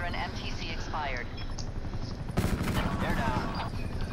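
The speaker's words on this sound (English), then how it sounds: "let's see how well they do with my chopper gunner" Chopper gunner helicopter firing in Black Ops 4, a steady rotor drone and bursts of rapid gunfire under a player talking over game chatter, with heavier fire erupting midway.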